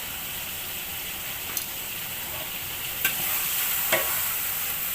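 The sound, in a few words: tomatoes frying in a pan for sambal pecel lele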